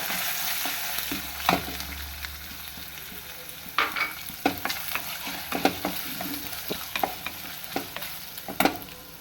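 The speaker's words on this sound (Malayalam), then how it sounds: "നമുക്ക് ആ തേങ്ങ ഇതിൻ്റെ കൂടെ വറക്കാം" Grated coconut roasting in a pan, stirred with a spoon: continuous dry sizzle broken by frequent sharp scraping and clattering strokes against the pan, close and fairly loud, with no talking.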